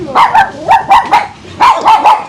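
A dog barks loudly and close by in a rapid series of sharp bow-wows, about eight barks in quick clusters with brief pauses, and no talking.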